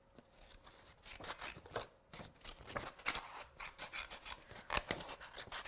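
Scissors snipping paper in a quick series of short cuts, close and fairly quiet, with light rustling of the sheet between snips.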